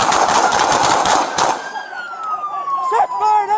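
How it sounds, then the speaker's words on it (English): Rapid gunfire bursts crack loudly during a police confrontation at the end of a high-speed chase, fading into a wailing siren while people shout over the noise. "Shots fired!"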